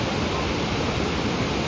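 Water rushes out of Sathanur Dam in Tiruvannamalai, flowing through three outlets as a steady, loud, broadband roar that stays constant throughout with no voices.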